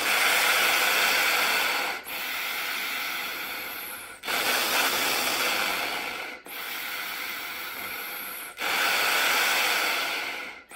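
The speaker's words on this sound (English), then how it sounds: "keep the ping pong ball at the very top of the breath builder, both when you're breathing in and breathing out" Breath drawn in and out through a breath builder, a clarinet air-support trainer with a ping pong ball held at the top: four long, steady, airy rushes of about two seconds each, separated by brief pauses, close and fairly loud with no talking.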